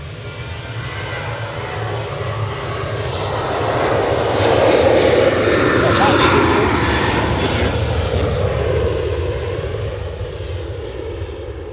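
A TUI airliner passing overhead, a broad steady engine roar that swells to a peak midway and then slowly fades as it moves off.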